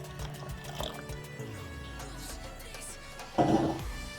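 Water pours and splashes into a pot with washed rice being set to boil, a steady liquid trickle that swells into a louder, brief gush near the end.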